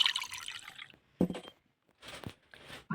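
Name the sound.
tea being poured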